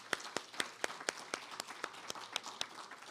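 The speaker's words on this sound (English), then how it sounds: "Another round of applause for everyone." After a faculty presentation, sparse, quiet applause comes from a small audience, roughly a dozen distinct claps in a loose steady rhythm, as if from only a few people.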